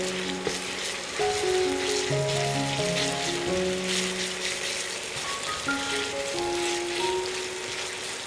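Chicken mince sizzles steadily in a hot pan for a cooking sequence, a continuous close frying hiss with faint tonal hum in the background and no talking.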